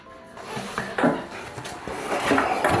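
A wooden cooking spoon is taken from a kitchen drawer during scrambled-egg cooking, bringing a short clatter of the drawer sliding and utensils knocking and rubbing against each other, close and brief.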